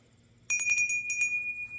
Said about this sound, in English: 1992 dinner bell in the Elena pattern